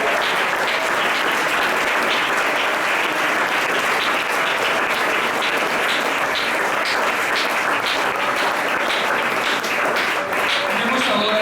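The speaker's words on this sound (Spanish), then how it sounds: "¿Por qué no le damos un aplauso a Él?" A church congregation applauds during a Sunday school sermon, a dense, steady wash of many hands clapping that holds loud and unbroken throughout.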